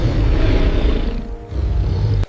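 Dramatized Tyrannosaurus rex roar, a loud, deep, rumbling growl that swells and falls off before ending abruptly in a short burst.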